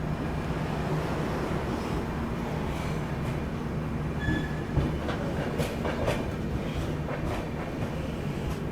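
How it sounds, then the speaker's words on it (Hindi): Vikramshila Express pulling out of Buxar railway station at night, a steady loud rumble of rolling wagons with clickety-clack and occasional brief wheel squeals, continuous and close. "मात्र 2 मिनट के स्टॉप के बाद अभी अपनी ट्रेन निकल रही है बक्सर रेलवे स्टेशन से।"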